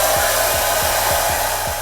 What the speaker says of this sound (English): And then we're gonna blow dry it.